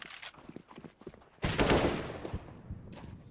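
Gunfire in a Counter-Strike match, a scatter of small shots followed by one loud burst that decays slowly, then a few more faint shots.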